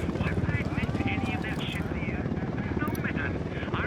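Helicopter in Ghost Recon Wildlands, a steady loud rotor thump with dense low chopping throughout, while voices chatter over it.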